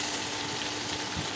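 Chopped onion fries in hot oil with bay leaf, dried chilli and cardamom in a pan, giving a brief, even, close sizzle with no talking.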